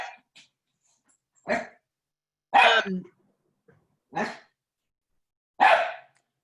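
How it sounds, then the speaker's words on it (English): A dog barks five times in evenly spaced, sharp single barks during an online meeting, moderately close and alone with no talking. "can you mute that dog?"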